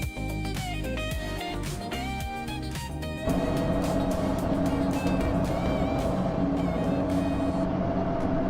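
Open-wheel F1 1998 race cars roar off the line at the start of a race in a racing game, a dense wall of high-revving engines building and holding steady, loud and close with no talk.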